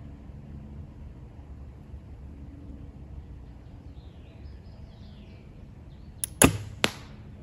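An arrow shot from a bow in a backyard strikes a target with a sharp, loud thwack near the end, followed by a second quick impact, after several seconds of quiet outdoor ambience with faint distant birds.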